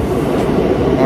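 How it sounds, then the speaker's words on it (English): A New York subway A train rumbles through Port Authority station, a loud, steady low roar of wheels and cars filling the platform, close and continuous for a brief moment. "We're at Port Authority, the subway station, waiting for our A train."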